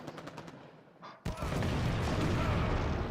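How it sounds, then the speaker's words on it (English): A nuke-launcher blast in Halo 5 sets off a chain reaction of explosions, a sudden loud roaring boom that swells into a sustained, heavy rumble after a stretch of lighter gunfire-like crackle. "that was a pretty big explosion"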